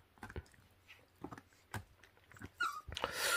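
Wild-dog puppies, 26 days old, whimper and yip softly while tearing at raw food: short close squeaks and scuffles in uneven bursts, rising into louder chewing and rustling at the end.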